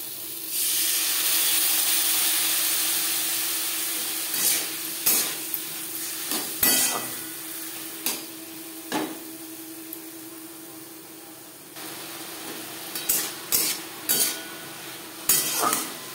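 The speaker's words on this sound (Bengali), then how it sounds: "মশলার সাথে সবজি বেশ ভালো করে কষিয়ে নেওয়া হয়ে গেছে" Vegetables for a jute-leaf curry cook with spices in a pan, opening with a strong steamy hiss that gives way to scattered metallic scrapes and knocks of a spoon against the pan, with a light sizzle beneath.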